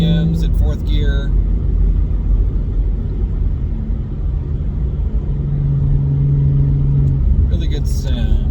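Engine drone inside the cabin of a 2016 Ford Mustang V6 fitted with a Beluga EX-F02 axle-back exhaust muffler, cruising in 4th gear at about 3,000 rpm, a loud steady low rumble with brief voices at start and end.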